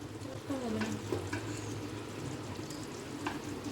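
A ladle scrapes and stirs a pot of biryani with cooked potatoes, soft clanks and shuffling over a low, steady sizzle, fairly quiet and close.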